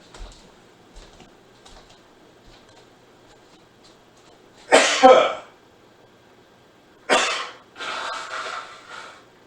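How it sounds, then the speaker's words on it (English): After some quiet sniffs and breaths, a loud close sneeze bursts out, then another forceful sneeze and a trailing exhale. "I gotta sneeze again, hang on."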